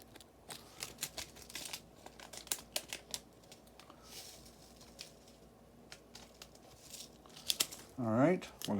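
Scissors snip the corner of a paper seed packet, giving several soft crinkles and clipped cuts close by, with brief speech near the end.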